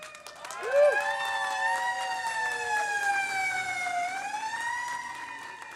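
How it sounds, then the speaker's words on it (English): An emergency vehicle siren, an ambulance or fire engine, wails loudly nearby at an outdoor bike rally, its rising and falling tone sweeping steadily and sliding lower as it moves past. "Even the ambulance was cheering for me. Or fire engine."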